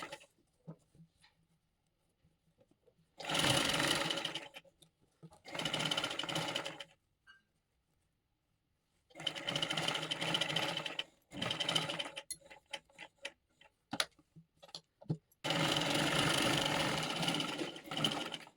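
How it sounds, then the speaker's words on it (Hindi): An electric sewing machine stitches a belted princess-cut blouse in several loud, rapid bursts of running stitches separated by short pauses. "और अब हम इसके साथ साथ कर देंगे इसकी सिलाई।"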